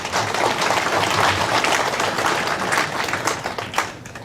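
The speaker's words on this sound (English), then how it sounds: "thank you, that deserves applause." Dense, vigorous clapping fills a hall during a speech at a Hmong community council transition day event. Close and continuous, it swells slightly before tapering near the end.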